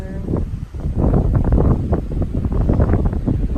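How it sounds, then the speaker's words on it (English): Strong, steady wind buffeting the microphone outdoors in Queensland, a continuous low rumbling roar with gusty swells and no voices. "It's quite windy now."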